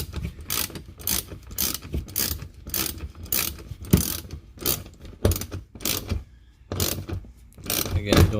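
A hand ratchet tightens 10 mm bolts on the plastic underbody of a 2016 Toyota Prius during an oil change, giving close, quick bursts of clicking with short pauses between strokes.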